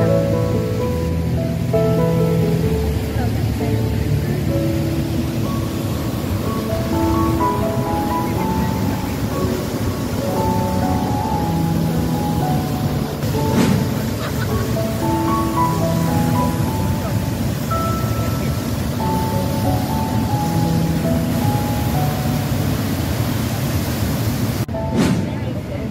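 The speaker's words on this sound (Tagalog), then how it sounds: "nanonood ng lagaslas ng tubig" Roaring rush of Horseshoe Falls at Terrapin Point, Niagara Falls, a steady broadband wash of falling water in light rain, with people talking over it throughout.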